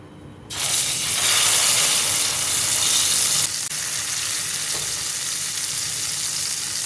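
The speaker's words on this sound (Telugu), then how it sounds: "ఇవన్నీ వేయించుకున్న తర్వాత గ్రైండ్ చేసుకున్నటువంటి మసాలా పేస్ట్ అంతా వేసేసుకోవాలి." Masala paste for chicken curry hits a hot pan with a sudden loud sizzle that fries steadily, easing slightly after a few seconds, with no voices.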